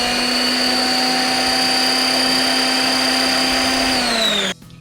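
A blender mixes a sauce in a kitchen, running as a loud, steady whine that drops slightly in pitch near the end and then cuts off abruptly.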